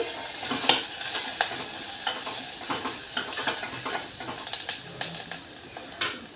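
Curry leaves crackle and sizzle in hot oil as a spoon scrapes and clinks against the pan in uneven strokes, with a steady frying hiss underneath.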